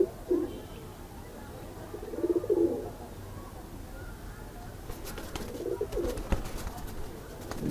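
Breeding pigeons coo in low, throaty bursts that repeat every couple of seconds, close by, with some light rustling and clicks in between and no talking.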